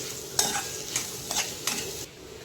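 A spoon stirs tomatoes and salt in a pan for spinach khichdi, with four distinct scraping strokes over a soft background sizzle, close and clear with no talking.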